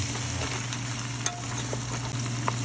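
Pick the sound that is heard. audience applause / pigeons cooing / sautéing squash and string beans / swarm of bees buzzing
sautéing squash and string beans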